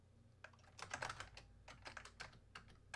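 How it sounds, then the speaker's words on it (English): Computer keyboard typing during a Rust game-coding session: irregular bursts of clicky keystrokes, busiest in the middle, close and clear over a low steady hum, with no talking. "Not sure what I'm doing on my keyboard right now."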